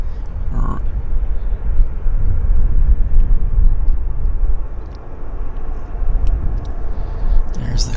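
Airliner climbing out after takeoff at Vancouver Airport, a steady broad engine roar at moderate distance that holds for the whole stretch with a slight swell near the end, under faint outdoor background.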